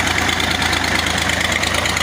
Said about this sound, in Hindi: आपको ट्रैक्टर की आवाज़ आ रही है।